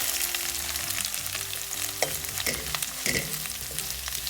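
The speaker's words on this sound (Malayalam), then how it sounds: "ഞാൻ കുറച്ചായിട്ടാണ് വറുത്തെടുക്കുന്നത്." Sun-dried prawns frying in coconut oil for a Kerala dry prawn pickle: a steady, close crackling sizzle throughout, broken by a few sharper stirring clicks, with no voices.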